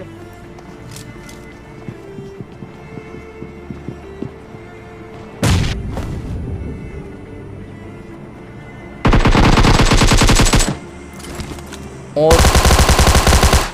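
Bursts of automatic gunfire from a battle royale shooter, two long, loud sustained volleys with scattered single shots and a heavy impact earlier, over quiet game ambience with a brief spoken word.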